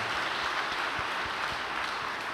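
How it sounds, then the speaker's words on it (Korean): An audience applauds after a testimony, a continuous, even patter of many hands clapping at steady volume throughout, with no voice rising above it. "박수 부탁드립니다."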